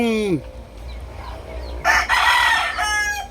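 A 16-month-old Boston bull stag gamefowl crows nearby, a falling call at the start followed by a long, harsh cock-a-doodle-doo in the latter half, with faint background noise between.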